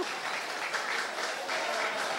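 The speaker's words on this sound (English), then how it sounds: "Everybody can clap now." An audience at a community discussion event in St. Peter's breaks into applause, a steady, dense wash of many hands clapping that holds for the full couple of seconds without pause.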